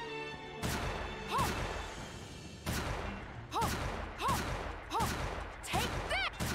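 Gunfire in Bloodstained: Ritual of the Night comes as a run of repeated punchy shots with ringing, pitch-bending tails, regularly spaced and loud in the game mix.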